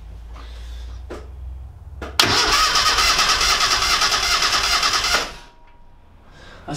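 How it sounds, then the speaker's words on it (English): A Classic Mini engine cranks on the starter during a compression test, a loud, rapid rhythmic churning that starts abruptly, runs about three seconds and cuts off, with faint clicks before and after. "and just crank the engine."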